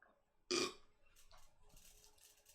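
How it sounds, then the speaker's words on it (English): A man lets out a single loud, close burp, followed by quiet room noise and faint shuffling. "Like that burp right now. I burp right now, even though I ate hours ago."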